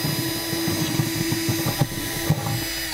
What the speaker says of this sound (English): Now we'll enlarge this hole to 1/2 inch using a step bit.